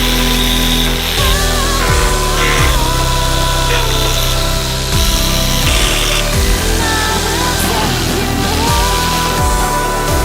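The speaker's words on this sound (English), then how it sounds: "first I'm gonna go ahead and remove all these bolts right here" Loud, continuous mechanical whine and rattle of a power tool backing out oil pan bolts on a small-block Chevy 350 V8, with repeated rising-falling bursts as each bolt spins loose, close by and steady throughout.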